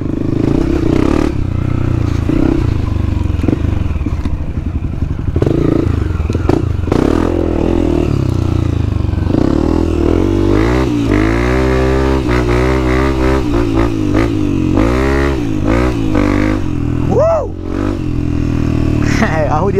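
A motorcycle ridden along a rough dirt trail near ruins and coastal cliffs, its engine droning and revving up and down close by. Clatter and scraping from the bumpy ground run through it while riders talk over the noise.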